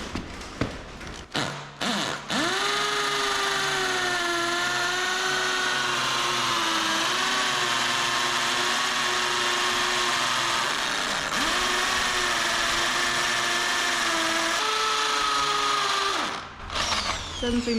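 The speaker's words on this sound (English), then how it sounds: "I should be able to run the drill bit in until the tape reaches the top of the plate" A drill bit bores anchor holes into a concrete floor for a Bendpak 10AP-168 car lift, a loud, steady whining drone that runs almost unbroken, with brief pauses and shifts in pitch as the bit bites.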